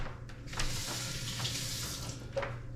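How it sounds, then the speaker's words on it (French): Water running from a kitchen tap as a hand is wetted before stretching bread dough, a steady close splashing stream with small irregular splatters, no talking. "Première chose, il faut se mouiller la main. Soit bien mouillé."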